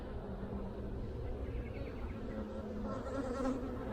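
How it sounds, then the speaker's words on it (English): Honey bees buzz in a dense, continuous drone from an open hive being inspected, close and steady throughout with faint rustling. "there's just so many bees in here right now"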